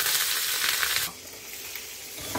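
Finely ground wet masala hitting a hot kadhai for a brinjal dish gives a loud burst of sizzling hiss that settles after a second into a softer, steady frying crackle.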